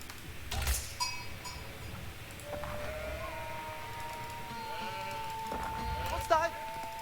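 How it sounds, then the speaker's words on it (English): Sheep bleat in the Age of Empires 4 strategy game, a few short wavering calls under someone talking, with clicks and faint game sounds around them. "Wow, all these sheep over here."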